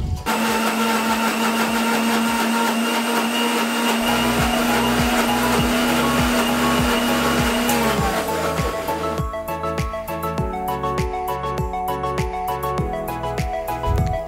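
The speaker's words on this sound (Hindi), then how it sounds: "इसको मम्मी अब पीस रही है मिक्सर के जार में।" An electric mixer grinder jar grinds soaked lentils with green chili, ginger and garlic for mangode, a loud steady whir running throughout with rhythmic chopping pulses from the blades, no talk.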